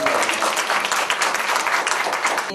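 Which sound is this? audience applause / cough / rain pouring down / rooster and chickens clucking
audience applause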